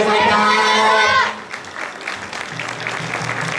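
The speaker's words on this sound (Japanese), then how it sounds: "もう一度皆さん盛大な拍手をお願いします" Audience applause breaks out at a spring 2019 Japan Festa after a taiko drum performance. Loud, dense clapping in the first second stops abruptly, and quieter crowd noise and scattered claps follow.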